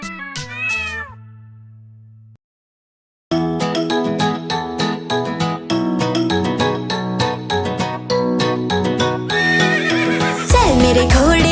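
A cartoon horse whinny and rhythmic hoof clip-clops ring out over bright Hindi nursery-rhyme music, loud and near, after a short cat meow at the start.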